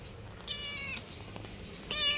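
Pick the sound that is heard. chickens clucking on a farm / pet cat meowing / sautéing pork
pet cat meowing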